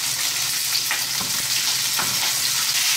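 Veal scaloppine frying in hot oil in a pan, a loud dense continuous sizzle with a few soft bumps from the pieces being moved, up close and without speech.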